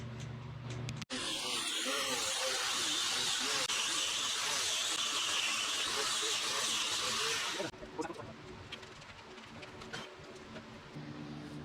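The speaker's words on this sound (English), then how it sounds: "if we just run like a wire wheel around there, that'll make that a lot better." Wire wheel on a power tool cleaning the inner knuckles of a TJ Rubicon Dana 44 axle, a loud continuous hissing scrub for about six seconds, then stopping, leaving quieter shop noise.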